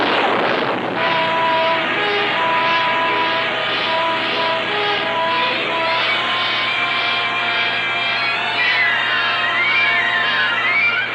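Rocket engine of an X-15 rocket plane during a 1959 ground test run, a loud continuous roaring blast with whining tonal layers that holds steady throughout after a sharp onset near the start.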